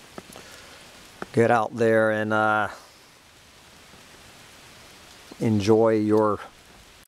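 Steady rain falls outdoors over a garden with clematis, a constant soft hiss running through the whole stretch beneath two short bursts of someone talking.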